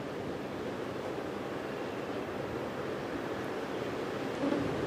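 Steady wind sweeping across the African savanna, a broad, even rush of noise buffeting the microphone, constant and fairly faint throughout with no voices.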